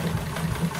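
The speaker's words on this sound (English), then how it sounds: "this is one of my Singer Model 15 treadle machines" A Singer Model 15 treadle sewing machine runs while stitching a quilt, giving a close, steady low mechanical whir with soft rhythmic pulses throughout the short moment.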